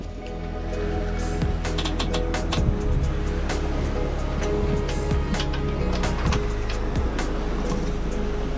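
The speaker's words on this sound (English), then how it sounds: "We're in the middle of the ocean." Ocean waves wash and slosh around a sailboat far out at sea, a loud, continuous rush of water against the hull with scattered splashes and creaks.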